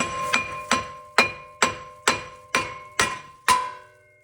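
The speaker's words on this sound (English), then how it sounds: "Just hit it. Bam, there's your old rotor off." Eight evenly spaced, hard hammer blows on a rusty brake rotor, each ringing with a bright metal clang that quickly decays, knocking the rotor off.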